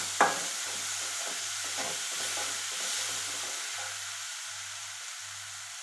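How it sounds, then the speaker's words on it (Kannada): Garlic paste hits hot oil in a pan and sizzles steadily, a bright close frying hiss with a brief sharp onset, continuing evenly with faint low hum underneath and no talking. "ಸ್ವಲ್ಪ ಜಜ್ಜಿಟ್ಕೊಂತ ಅಲ್ಲ ಬೆಳ್ಳುಳ್ಳಿ ಪೇಸ್ಟನ್ನು ಹಾಕಿರಿ."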